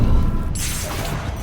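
A Confringo fire-blast spell from Hogwarts Legacy bursts with a loud, close explosive crash over a deep rumbling bed of battle noise, then a hissing spray trails off.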